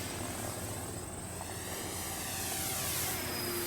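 A Dynam RC model warbird, one of a P-51, Spitfire or T-28, flying overhead with a continuous buzzing electric motor whine that shifts in pitch as it passes, steady and fairly loud against outdoor noise.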